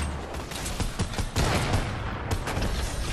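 Gunfire in Fortnite, with a sniper rifle in use: a series of loud shots and cracks, some clustered rapidly, with a heavier blast partway through over a busy background.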